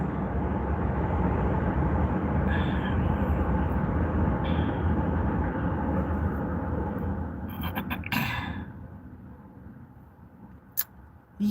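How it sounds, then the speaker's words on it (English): Loud train passing by, a broad heavy rumble and roar sustained for most of the time, then fading away with a few sharp metallic clanks and rattles near the end. "It's that loud train."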